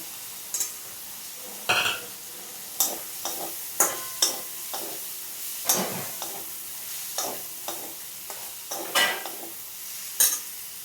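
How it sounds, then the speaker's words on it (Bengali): Spices are sautéed in a pan with chopped potatoes, heard as a low sizzle broken by a steady run of sharp spoon scrapes and clinks against the metal about once a second. "দিয়ে মশলাটা ভালো করে কষে নেব"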